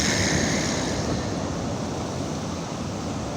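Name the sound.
ocean waves breaking on the shore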